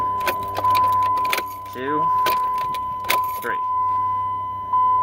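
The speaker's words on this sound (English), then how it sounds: "if you cycle the key off and on about 3 times within the span of, I think, 5 seconds" A truck's ignition key turned off and on repeatedly, with keys jangling, clicks and a steady dashboard chime tone running through, while someone speaks over it.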